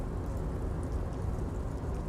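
Steady rain falls in Disco Elysium, a constant dense hiss of drops on surfaces with no talk, even and unbroken throughout.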